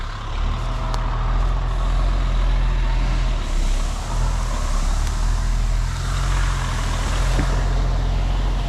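A large dump truck's diesel engine rumbles steadily nearby as it manoeuvres on a gravel grading job, with the low drone shifting in pitch and faint hissing and clanks on top.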